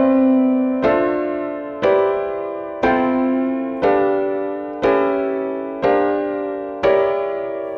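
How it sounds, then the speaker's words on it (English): Piano chord samples, each half a bar long and evenly spaced across four bars, strike one after another in a steady sequence of eight decaying chords, clear and close with no talk. "where I used piano chords that I set over 4 bars"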